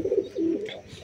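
Domestic pigeons in a loft give close, low, throaty coos in two rolling phrases, loud and clear with nothing else competing.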